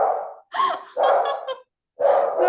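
A small dog barks three or four times in quick succession, sharp and close, with brief gaps between the yaps.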